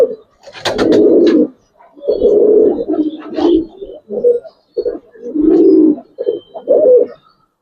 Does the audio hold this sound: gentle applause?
no